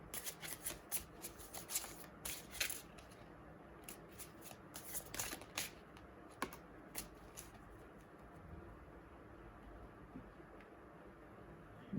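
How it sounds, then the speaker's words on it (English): A Romance Angels oracle card deck is shuffled by hand in quick riffling bursts that are strongest at first, then give way to sparser card flicks and taps, all soft and close. "let me pick up a card from the Romance Angels deck also from you"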